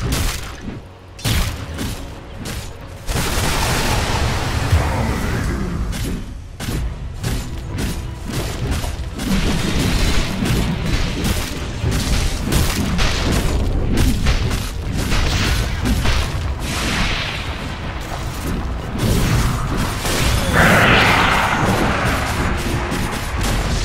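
Dota 2 match with Dire's top tower under attack: dense, continuous battle noise of booming impacts, spell blasts and gunfire-like hits, loud and busy throughout with sharp transient bursts over a thick rumbling bed.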